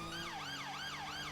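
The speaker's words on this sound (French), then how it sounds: "c'est vraiment les sirènes, comment dire, anglaises" A British emergency vehicle siren wails in a rapid rising-and-falling sweep, repeating about three cycles, steady and fairly faint over low road rumble, with no voices.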